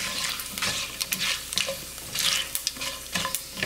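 Chilies, a bay leaf and a cinnamon stick sizzle in hot oil in a pan while a spoon stirs them, giving close scraping strokes and crackles in an uneven rhythm over a steady frying hiss.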